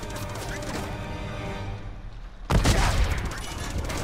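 A burst of rapid gunfire erupts after a quieter stretch of background noise, loud and dense, a firefight in the video game Uncharted 2: Among Thieves.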